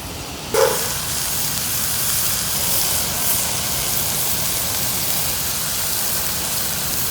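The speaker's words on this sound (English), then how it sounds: "But ham steak is sizzling." Steady, close sizzling hiss with fine crackling from a ham steak cooking over an open fire, running throughout, opening with a brief louder pop.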